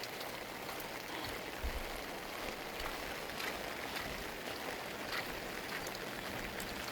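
Muddy floodwater after a heavy overnight downpour rushes and pours in a steady, broadband wash, fairly faint and continuous throughout, with no speech.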